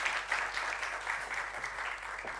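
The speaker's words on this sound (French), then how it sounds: "On peut applaudir une nouvelle fois Atom" Soft, distant applause from a conference audience, a steady wash of clapping lasting a couple of seconds at low volume.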